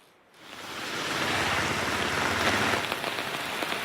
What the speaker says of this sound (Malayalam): തിരുവനന്തപുരത്ത് തന്നെ നല്ല മഴയാണ്